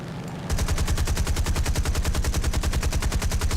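Six aircraft-mounted machine guns firing in War Thunder, a loud rapid-fire burst starting half a second in and running steadily to the end with an even, pulsing rhythm.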